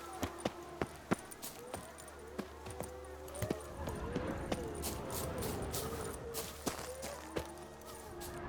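Hooves of the horse Roach clip-clop at a steady walking rhythm in The Witcher 3, sharp regular strikes over a low ambient hum, fading into a busier, denser stretch with occasional louder hoofbeats.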